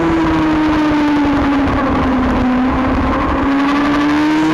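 A racing motorcycle engine in the Formula Femme final races at a 2016 SOAR road-racing round. It drones loud and close the whole time, its pitch dipping slightly and then climbing again under acceleration.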